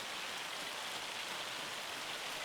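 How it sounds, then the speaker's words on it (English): Hail falls over farmland in Farming Simulator, an unbroken faint hiss of pellets striking the ground that stays level and even, with no speech. "It's hailing, so we're going to lose some of our crop, I bet."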